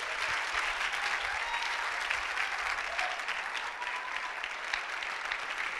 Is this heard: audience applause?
yes